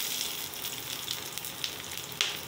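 Chopped sambar onions frying in a pan produce a steady close sizzle with occasional sharper pops and crackles, alone without voices.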